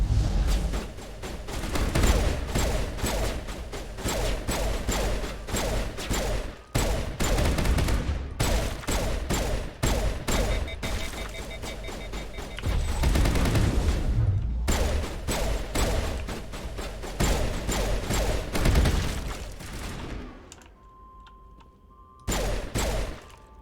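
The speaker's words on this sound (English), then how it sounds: "it makes the rifle sound way cooler" Rapid rifle fire in the video game Mass Effect, long sustained automatic bursts of sharp shots repeating steadily and loudly, broken by short pauses, with a quiet stretch and one final burst at the end.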